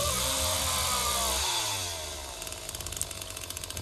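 A chainsaw engine in The Texas Chain Saw Massacre video game revs loudly, then winds down to a lower idle with a rhythmic putter, with no talking.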